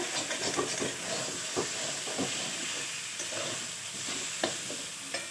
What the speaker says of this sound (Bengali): এই যে আমার আলু এবং মশলা একসাথে খুব ভালোভাবে ভাজা হয়ে গেছে